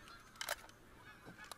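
Goose honks from theHunter: Call of the Wild hunting game, two faint calls against a low steady background, one near the middle and a softer one later.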